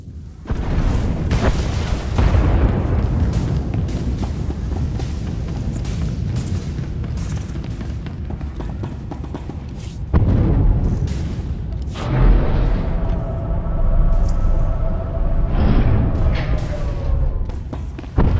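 Enemy fire batters a starship in Star Wars: The Old Republic as a sustained, loud barrage of deep booms and rumbling explosions, followed by a brief tonal hum amid further impacts.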